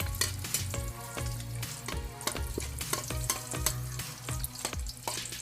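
Potato slices fry steadily in hot oil for an egg silog meal, a dense continuous sizzle close by, punctuated by frequent scraping and clacking of a utensil turning them in the pan.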